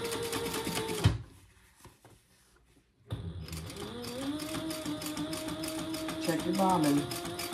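A sewing machine top stitches a handbag seam in close, buzzing bursts, pausing briefly before running on, with a voice talking over it at times.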